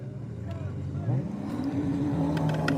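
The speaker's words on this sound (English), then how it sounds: "look how close this jet ski is" A jet ski on a bass-fishing lake roars close past a fishing boat, its engine whine rising in pitch as it speeds by, loud and steady, with a voice talking over it.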